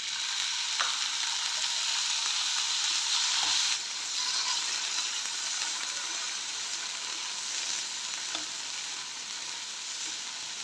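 Boiled black chickpeas are stirred into a salad mixture, a close, steady hiss and rustle with faint intermittent clinks of the spoon against the bowl.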